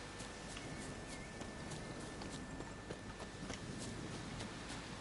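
Horse hooves clip-clop steadily at a trot in the video game The Witcher 3: The Wild Hunt, a rhythmic run of muffled hoofbeats over a dense, noisy ambient bed, fairly faint and without talking.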